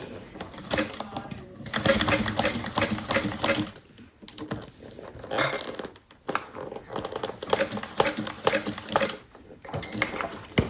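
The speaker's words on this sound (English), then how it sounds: "And now I can go ahead and finish my top stitching." A sewing machine top stitching a fabric bag, running in steady close bursts of rapid needle clatter with brief pauses between runs.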